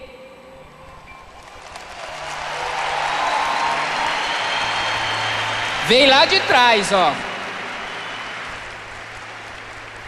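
Audience applause during a Catholic Mass at a PHN youth camp, a broad crowd clapping that swells and holds steady, with someone speaking briefly over it.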